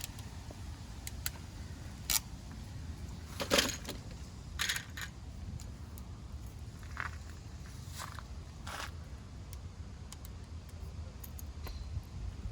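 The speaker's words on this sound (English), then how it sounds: "Now it's time to crimp on the connector." A few sharp mechanical clicks and crunches from crimping a connector onto a wire, close by, separated by quiet pauses over a faint low background hum.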